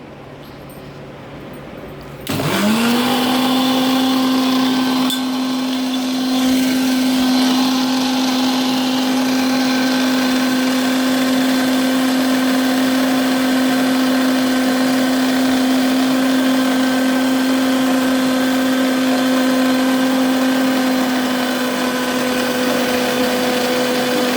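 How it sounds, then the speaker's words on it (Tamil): A mixer grinder switches on after a brief quiet moment and keeps grinding, giving a loud, steady motor whine that holds unbroken to the end. "இன்னும் ஒரு 5 மினிட்ஸ் அரைச்சிக்கலாம்."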